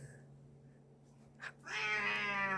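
A rescued cat meows insistently, its loud, drawn-out cries rising close by after a quiet moment, with a steady low hum in the background.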